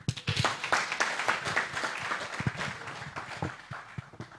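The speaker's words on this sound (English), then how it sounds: "Please clap for him." An audience at an anniversary and induction event applauds a speaker, steady dense clapping from many hands that holds at a moderate level for several seconds before tapering slightly.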